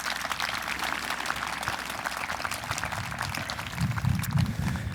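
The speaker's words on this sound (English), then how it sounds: "Let's have a round of applause for them too" A graduation audience at Westwood High School claps steadily and fairly faintly, a continuous dense patter of many hands that swells slightly near the end.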